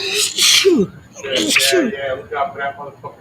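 A sneeze breaks out amid loud, casual talk among several men at a bar during a Monday Night Football podcast, one short burst near the start over ongoing speech.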